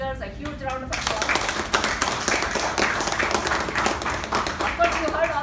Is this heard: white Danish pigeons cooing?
no